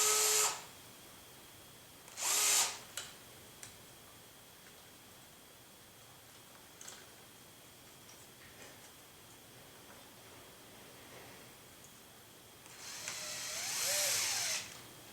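A power driver sets screws into a boom support during a build, with a few short, faint bursts of whirring near the start and a longer one near the end, separated by quiet stretches of light clicks and handling.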